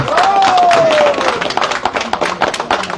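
An audience at a diaspora community meeting in France breaks into applause, with a loud held whistle or cheer over the first second, then the clapping thins into scattered, separate claps near the mic.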